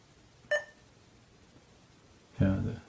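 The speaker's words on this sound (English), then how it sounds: "you can hear the sort of echoey beep" Two short beeps from a 1990s Mac computer, the first brief and higher, the second a louder, longer echoey tone about two seconds later, over faint room hiss.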